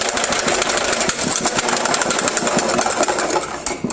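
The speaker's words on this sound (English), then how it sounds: "Let me give it a nice good whisk." A whisk beats hollandaise sauce in a bowl with a fast, steady, loud scraping rhythm that runs without a break.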